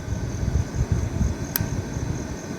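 An electric blower fans a bonfire at a drizzly farm campsite in Magalang, Pampanga, making a steady close whooshing roar of air that rumbles on without a break and with no voices.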